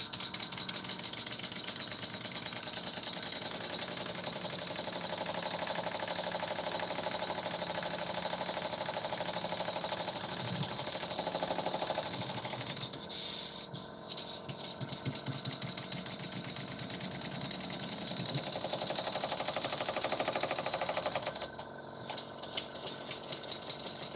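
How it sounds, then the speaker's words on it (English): A small air compressor runs continuously nearby in a workshop, a steady mechanical drone with rapid rattling pulses, briefly dipping twice before resuming. "Excuse my little air compressor."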